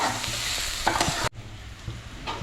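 Green chilli and garlic sizzle in a hot pan as they are stirred, a loud steady frying hiss with a few scraping knocks that drops off sharply midway, then continues more quietly; no talking.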